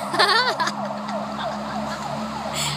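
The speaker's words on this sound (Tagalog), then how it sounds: "Ambulansya pala yun." An ambulance siren wails and then warbles in quick repeated sweeps, somewhat distant over a steady engine hum.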